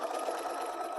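Sewing machine stitching a flannel strip down onto a baby blanket, a steady close whirring run with no pause.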